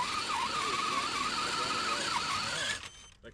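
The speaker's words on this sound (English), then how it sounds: "It's a truck. It's definitely a truck." A truck driving at night at an interstate off-road park, its engine and tires giving a sustained high whine and squeal that cuts off near the end, close and loud, with no talking.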